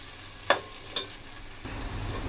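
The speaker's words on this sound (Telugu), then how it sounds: "చూడండి, ఈ విధంగా పచ్చి వాసన పోయేదాకా ఫ్రై చేసుకోవాలా." Ginger garlic paste fries in hot oil with a soft, steady sizzle, broken by two sharp scrapes of a utensil stirring the pan, the frying growing fuller toward the end.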